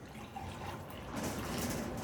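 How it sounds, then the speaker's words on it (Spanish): Hot boiled water pours into a cup as part of a home remedy, a soft steady running-liquid hiss that swells slightly louder midway, with no talk over it. "El agua que ha servido, esta agua que ha hervido, en una taza,"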